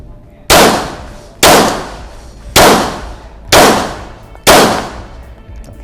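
Five loud, evenly spaced Glock 17 pistol shots fired at a target on a shooting range, each a sharp crack with a decaying tail, about one per second and close by.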